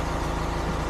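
A bus engine idles loud and close in a steady low rumble that holds even throughout, with no voices.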